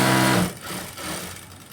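A sewing machine stitches black lining along the edge of a cloth, giving a brief, close buzzing run that fades into softer handling noise.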